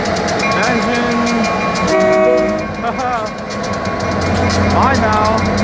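A freight train engine rolls past a cola plant, a loud continuous rumble and rattle of rail cars with droning engine tones throughout, and people talk over it.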